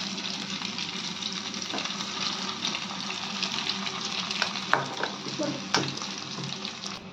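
Maggi noodle pakoras deep-fry in oil with a continuous loud, hissing sizzle and scattered sharp pops and stirring clatters, close up and with no talking.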